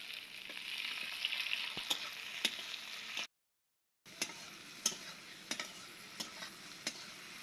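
Tomatoes fry in a pan for a fish curry, a quiet steady sizzle with scattered ticks and pops, broken by a short silent gap midway.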